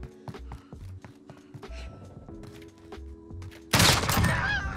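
Gunshots fire in a Modern Warfare Search and Destroy match, with sharp rhythmic reports popping over steady game hum before a loud, dense burst of shooting near the end.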